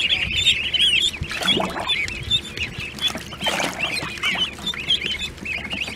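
High-pitched peeping and chirping of Indian Runner ducklings, nearly continuous and fairly close, with a few louder calls and some background rustle.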